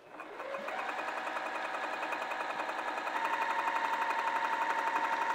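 A sewing machine stitches a flannel tunic with Gutermann all-purpose thread, starting up and settling into a fast, steady mechanical hum with rapid rhythmic needle ticks, close and alone.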